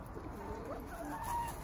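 Backyard hens cluck softly and intermittently nearby at low volume, with a few short higher calls over a quiet background.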